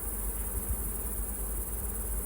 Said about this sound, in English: What a healthy looking hive. Just take a look at this.